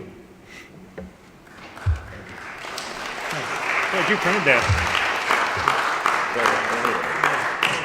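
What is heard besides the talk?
audience applause in church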